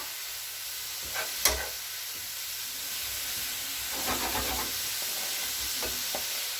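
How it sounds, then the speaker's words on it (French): Tartiflette filling with mushrooms sautéing in a pan, a soft steady sizzle with a few scraping stirs of a utensil against the pan, close by and fairly quiet, no voices. "Vous mélangez tout, vous faites bien revenir."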